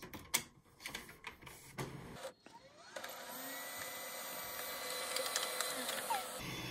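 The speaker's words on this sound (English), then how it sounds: "I don't know why it started to print a black line down the side of the page." Laser printer feeding and printing a page, running with a steady mechanical whir and buzz after a few clicks and knocks, close by and alone; the machine has a worn drum and prints a black line down the page.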